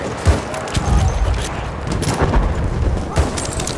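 Battlefield 1 gunfire: dense bursts of machine gun fire mixed with booming explosions, loud and continuous throughout, with brief shouted voice fragments buried in the chaos.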